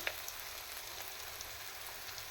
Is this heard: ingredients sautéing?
yes